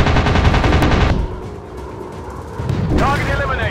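Rapid machine gun fire from British WW2 fighter planes in the dogfight game Warplanes: WW2 Dogfight. It starts as loud, dense bursts, drops to a quieter rumble, then picks up again over engine noise.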